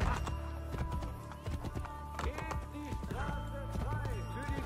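Horse hooves clip-clop at speed in Assassin's Creed Brotherhood, a rapid, close galloping rhythm over game music, with an occasional whinny.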